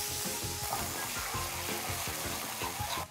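A small amount of soy sauce and garlic sauce with a spoonful of water bubbles in a pan, a close, busy sizzle with rapid popping bursts throughout.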